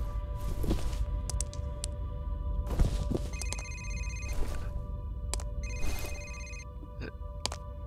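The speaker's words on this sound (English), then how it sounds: "This is where I'm hearing the phone ringing." A telephone rings in the first-person shooter game F.E.A.R., repeated electronic bell bursts in a regular pattern amid thuds and a low ambient rumble, with no speech.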